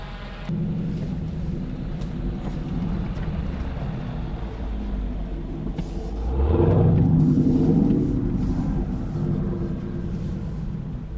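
A 2019 Dodge Charger Scat Pack idles with a low rumble in the desert, then the engine swells into a louder, deeper roar as it accelerates away before easing off.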